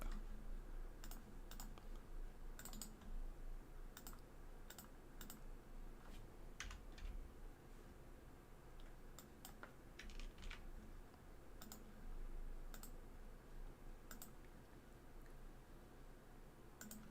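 Someone types on a computer keyboard, leaving faint, scattered keystroke clicks in quick irregular bursts over a low room hum, distant and quiet throughout.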